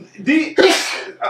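A loud, close sneeze bursts out from a podcast host mid-conversation, a sharp intake followed by an explosive blast, with a brief voice right after.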